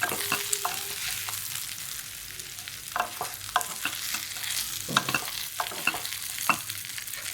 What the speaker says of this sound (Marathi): हलक्या हाताने परतून घ्यायच्या असं चांगलं परतून घ्यायच्या